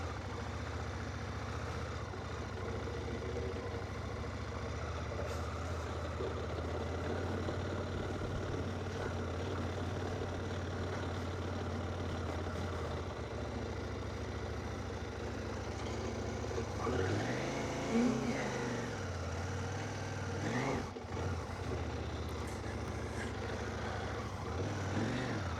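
A CF Moto 800MT ES motorcycle engine runs steadily at idle, low and continuous, then revs up in a short rising and falling burst near the end before settling again.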